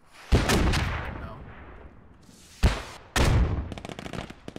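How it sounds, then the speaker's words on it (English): Gunfire in the Squad video game: several sharp shots crack out, some loud and close, with echoing tails and a quick burst at the end. "The gunfire came from over there."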